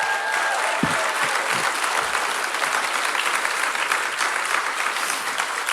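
Big, steady round of applause from a congregation during a morning church service at a summer camp, continuous dense clapping with a few brief low thumps early on.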